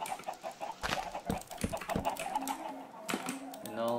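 Minecraft chickens cluck in short, repeated bursts, mixed with steady computer keyboard clicking and some talk.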